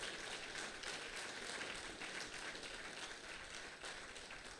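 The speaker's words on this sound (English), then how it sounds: "this round of applause doesn't do enough justice to the profile." At a celebration honouring a professor, an audience gives a steady round of dense applause, a broad, even wash of many hands clapping throughout, heard from a little distance with no voices over it.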